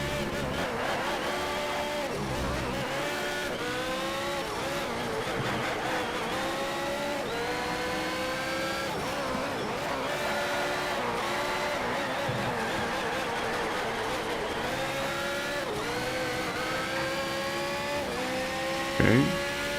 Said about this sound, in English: this Porsche has a very good acceleration